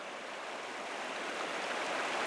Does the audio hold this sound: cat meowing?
no